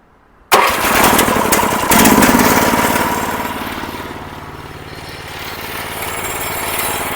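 A hybrid single-axle walking tractor's engine fires abruptly after near silence and settles into a loud, close, rattling run, its clattering pulse easing slightly then rising again.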